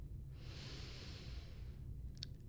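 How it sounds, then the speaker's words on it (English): One slow, deep inhalation drawn through the nose, close and soft, lasting about a second and a half in a quiet room during a relaxing yoga cool-down. "Take a deep breath in"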